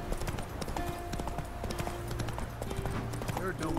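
Roach the horse walks along in The Witcher 3, hooves clip-clopping in a steady rhythm close by, with talk over the footsteps.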